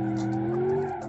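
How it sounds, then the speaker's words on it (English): A car spins its tires in a burnout in the BeamNG driving game, giving a steady, loud squealing whine over engine drone for about a second. "Do a little burnout."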